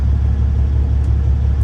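A big truck, marked River Dog Express, rolls past on a Florida road south of Daytona, its engine a steady, loud low rumble that holds evenly through the pass with no talk.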